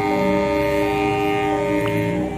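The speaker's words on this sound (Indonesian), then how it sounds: "Ini adalah kereta api Pasundan teman-teman" The Pasundan passenger train pulls out of Mojokerto station with a steady, loud, horn-like tone over a continuous rail rumble.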